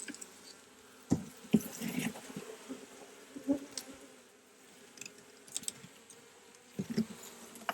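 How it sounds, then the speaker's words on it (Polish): Honey bees in a sparsely populated nucleus hive give a faint, close buzz, with scattered brief louder bursts and clicks of handling over a quiet background. "Tu jest w ogóle mało pszczoły w tym odkładzie."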